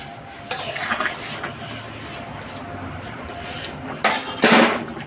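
Utensil clinks and scrapes as cauliflower curry is mixed in a pan, a few soft stirring knocks with two brighter clatters near the end, close and fairly quiet over a low background hum.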